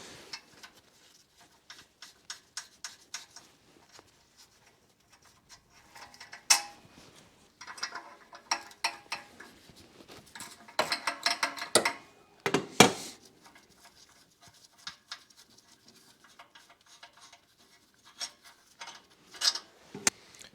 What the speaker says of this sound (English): Just using a 12 millimeter ratcheting wrench here.